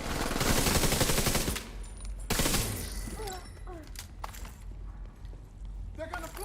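Capacitor weapon fire in a video game, rapid bursts of loud close gunfire at the start that break off and return briefly, followed by chirping game effects under a voice.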